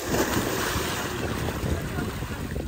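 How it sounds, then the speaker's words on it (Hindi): Steady cool wind gusting outdoors near a tubewell, a continuous broadband rush with microphone buffeting that stays loud and even throughout. "बहुत ठंडी ठंडी हवाएं चल रही हैं"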